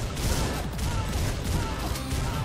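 Shotgun blasts from the retro shooter game Butcher pound in rapid succession, loud and close, blending into a dense barrage of gunfire.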